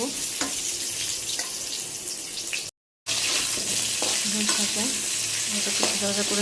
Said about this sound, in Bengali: আলুগুলো একটু ভাজা ভাজা করে নেবো।